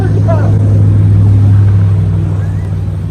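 Toyota Tacoma pickup truck accelerating off-road, a loud, steady engine drone filling the whole moment, with people shouting over it.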